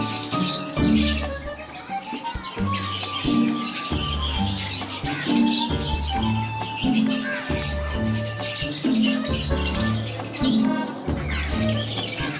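Teddi pigeons coo in soft, repeated throaty pulses while faint chirps and twittering sound around them, steady and fairly close over a bright background of birds.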